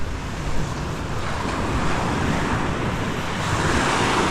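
Ocean waves at the seaside wash in a steady, continuous roar of surf, mixed with wind noise on the microphone, with no talking.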